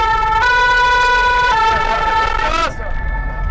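Fire engine sirens wail loudly up close in a Tour de France publicity caravan, a steady high tone with a sweep and a cut-off near the end, over crowd and vehicle noise.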